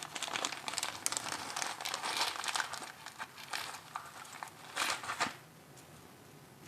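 A plastic Ziploc bag holding white metal model track links crinkles and rustles in bursts of handling, close and crisp, with the metal pieces shifting inside before a short quiet stretch near the end.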